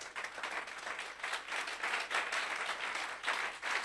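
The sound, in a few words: congregation applauding in church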